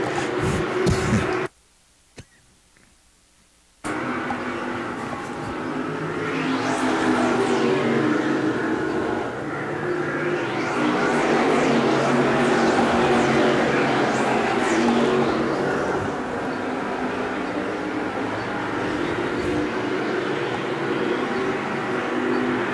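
Modified race cars at Thompson circle the track in a pack, engines building into loud overlapping whines and rising-falling pitch sweeps as they pass by, broken by a brief silent gap early on, with a commentator talking throughout.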